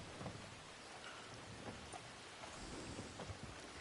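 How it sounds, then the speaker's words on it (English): Heavy rain pours steadily over an outdoor town in the video game Red Dead Online, a dense, unbroken hiss with scattered drops and low rumbles running throughout with no voices. "But like this is, I think this is too heavy of a rain right now."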